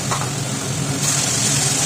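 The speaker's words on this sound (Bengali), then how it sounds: "এরপরে আমরা বাটির এই জলটা অল্প একটুখানি দিয়ে দেবো এর মধ্যে, দিয়ে ভালো করে নেড়ে নেব" A fish curry with potato and elephant foot yam is stirred in a pan after a splash of water, giving a close, steady sizzle and hiss with soft scraping under it, no voices.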